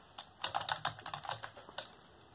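Someone types on a computer keyboard: a quick, uneven run of light clicks and taps, close and fairly quiet, with no voices.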